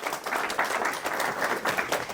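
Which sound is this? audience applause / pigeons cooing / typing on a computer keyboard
audience applause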